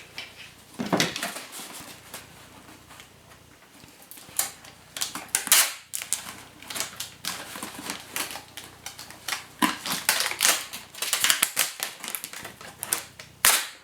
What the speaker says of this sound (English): So now we just need to tape everything.